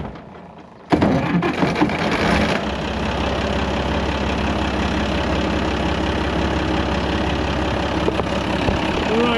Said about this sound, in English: I'm gonna let it sit here and just idle for a minute.